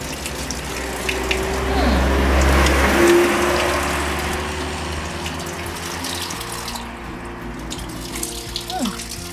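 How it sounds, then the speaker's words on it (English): Water from a drinking fountain at a mountaintop spot runs steadily in the open air, loudest in the first few seconds and then softer but continuous. "Fountain water."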